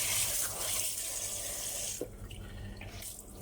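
Water runs steadily from a tap, a broad hissing rush that eases after a couple of seconds into a softer flow with small splashes.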